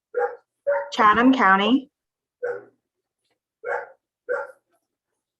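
A dog barks repeatedly through a board of delegates meeting held by remote call, sharp separate woofs and yips spaced across several seconds, one bark overlapping a person talking.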